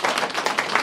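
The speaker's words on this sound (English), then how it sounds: "can we get another round of applause for the city administration for hosting this event?" Audience applause at a public hearing on a carbon tax in Nephi, Utah: a dense, steady wash of many hands clapping close by, with no voices over it.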